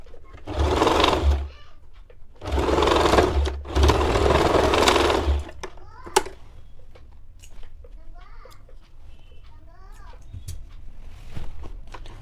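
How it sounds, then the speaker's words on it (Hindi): A sewing machine runs in two loud, steady bursts while stitching a girl's silk top, then stops, leaving quiet handling of fabric and small clicks. "बस इसे सिलाई कर लेते हैं।"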